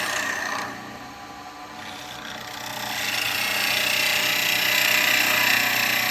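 A spindle gouge cuts a wooden bowl spinning on a lathe, giving a continuous scraping, buzzing hiss that dips early on, then swells and holds steady and fairly loud.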